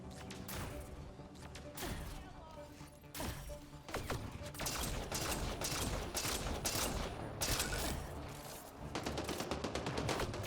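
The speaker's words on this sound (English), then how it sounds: "It is an assault rifle. But it's more like a sniper rifle than an assault rifle." Assault rifle fire in the video game Mass Effect, dense rapid bursts and repeated sharp shots layered over game combat noise, loud and continuous for several seconds.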